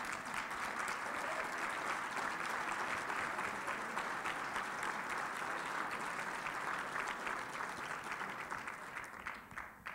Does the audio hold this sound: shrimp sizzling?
no